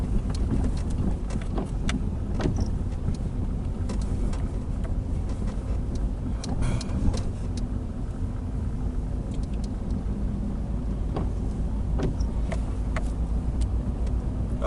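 A Nissan Primera rolling slowly through a village in second gear at about 30 km/h, giving a steady low engine and road rumble from inside the cabin with occasional faint knocks and clicks.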